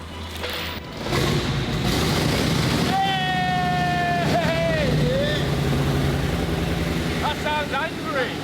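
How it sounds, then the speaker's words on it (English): A Mercedes-AMG GLE63 S engine, from a damaged car, cranks, catches and roars to life, then revs hard with a rising, rasping whine, loud and close throughout. "we could actually get this engine started and hear it running for the first time"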